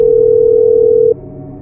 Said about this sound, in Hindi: प्रशांत अपना फोन उठाकर अपने फ्रेंड विजय को कॉल करता है